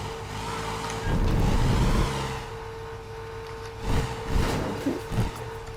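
Car engine in the video game Teardown, revving up loudly for about a second, then idling under a steady hum before a few shorter rises in revs near the end.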